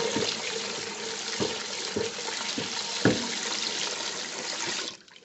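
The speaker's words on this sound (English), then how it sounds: "So I'm going to put some cold water over them and rinse them some more." Cold tap water runs steadily over cooked spaghetti in a kitchen sink, a continuous splashing rush with a few soft knocks, cutting off near the end.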